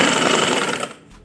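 A sewing machine runs stitching folded fabric along a seam for a simple open frock, a steady fast motor whir close by that cuts off near the end.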